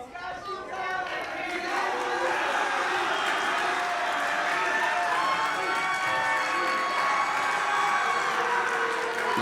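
A wrestling show crowd in a packed building roars and cheers loudly and continuously, with shouts rising over a dense wall of voices that swells after a brief quieter start.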